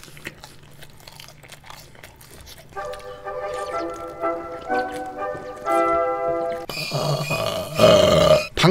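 A man burps once near the end, a short low rough eruption that follows humming or music-like tones and mouth noises, all close to the mic.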